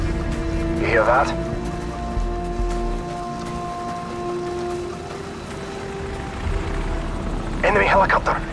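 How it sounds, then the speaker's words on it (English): An enemy helicopter in Call of Duty: Modern Warfare's All Ghillied Up mission gives a steady rotor drone under game ambience, with short bursts of voice near the start and end. "Enemy helicopter!"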